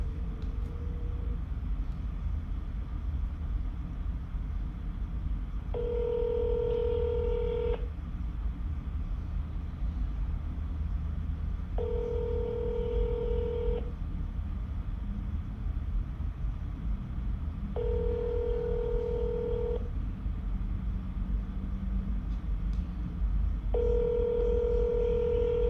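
Telephone ringback tones from an outgoing sales cold call, repeated paired beeps about every six seconds over a constant low hum, with some faint background noise and no talking.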